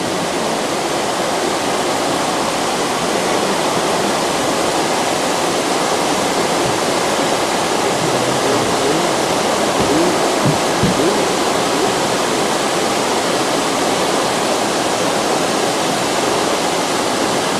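Water leaking through the Erie Canal lock gates makes a loud, constant rushing roar like a waterfall, unbroken and close, with no talk over it.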